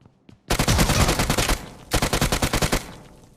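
Two rapid bursts of automatic gunfire from the mobile battle-royale game PUBG Mobile, loud and close, each lasting about a second with a brief pause between them.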